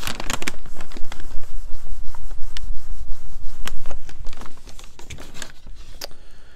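A rag soaked in lacquer thinner scrubs back and forth over a surface painted with Sherwin-Williams Emerald urethane, giving a loud, close, continuous rubbing and scraping with short sharp strokes that eases off toward the end.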